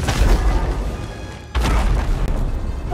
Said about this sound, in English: that's a nice explosion